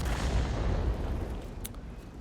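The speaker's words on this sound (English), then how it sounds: "Quick shot into DNH." A tank cannon fires in the World of Tanks video game: one loud, booming shot that opens sharply, then rolls and fades slowly over about two seconds, heard alone.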